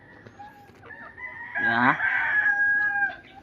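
Chickens cluck softly nearby before a rooster lets out a loud, drawn-out crow in the middle, with scattered clucks around it and a brief human voice.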